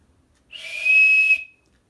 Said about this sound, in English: It's a novelty item because obviously it's got a whistle on it